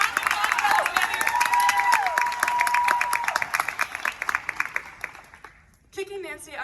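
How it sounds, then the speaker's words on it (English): An audience at a senior cabaret performance gives a round of applause, dense clapping with some cheering that holds for several seconds before cutting off, followed by a brief voice. "round of applause for Alex."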